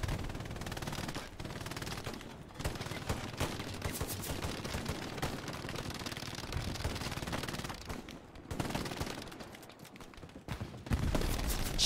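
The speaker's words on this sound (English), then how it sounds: "Quite a few shots coming on the tower, lads" Continuous gunfire from the WWII shooter Hell Let Loose rattles at a tower: dense machine-gun bursts and rifle shots, near and far, with brief lulls and louder volleys near the end.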